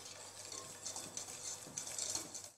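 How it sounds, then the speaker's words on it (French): Pastry cream of eggs, sugar and flour is stirred gently in a bowl, a soft continuous scraping and swishing, close but quiet, with no talking. "Je mélange délicatement."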